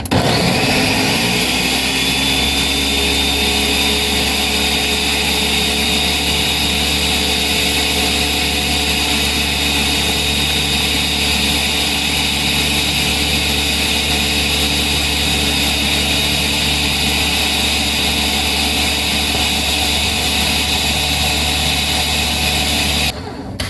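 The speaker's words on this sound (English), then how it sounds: "I'm gonna blend this up for a minute or two" A kitchen blender purees vegetables including beets, running loudly and steadily for over twenty seconds, a constant whirring roar that cuts off abruptly at the end.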